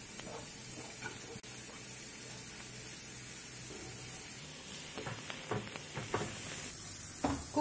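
Onions frying in hot oil in a pan, a steady sizzling hiss throughout with clicks and scraping stirs toward the end, close and moderately loud, no talk.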